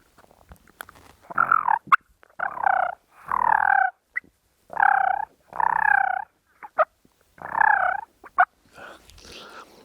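A hand-operated turkey call imitates a turkey's purr: six or seven loud, close, rolling trilled bursts separated by brief pauses, with a few sharp clicks in between.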